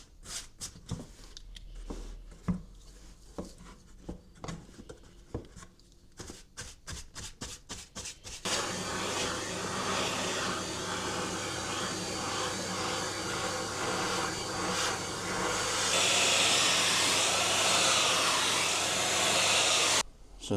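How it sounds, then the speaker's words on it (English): A vacuum cleaner hoovers loose dust out of the bellows of a Wisner 8x10 large format camera under restoration, a steady loud broadband roar after a run of brisk tapping and brushing sounds. "Just dust this out a bit, just to get all the loose stuff out, and then again hoover it up."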